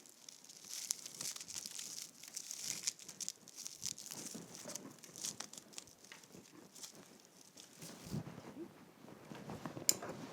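Ribbon being crinkled and worked into a winter wreath, soft rustling and crumpling with small taps, close and quiet throughout, no speech.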